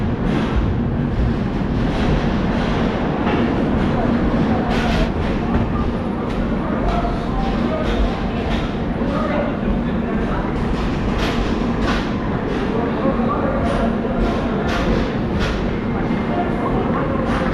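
AP Express passenger train travelling toward Vijayawada Junction, a steady continuous low rumble of wheels and carriage noise with faint periodic clatter throughout, close and even in level.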